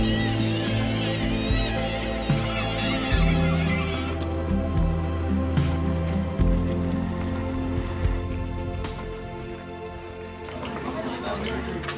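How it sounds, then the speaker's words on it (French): A colony of gulls calls along the Brittany coast of the Côte d'Émeraude, with a dense chorus of honking and squawking cries spread across the scene, steady and fairly loud over a continuous background. "ou encore une colonie de goélands"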